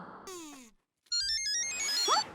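Mobile phone ringtone for an incoming call, a bright electronic melodic tune of repeating beeps that starts after a short gap, set in a busy household scene with other noises around it.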